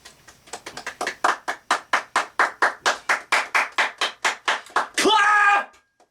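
Hands clap in a steady, even rhythm of about twenty sharp claps close to the mic, ending in a brief shouted voice.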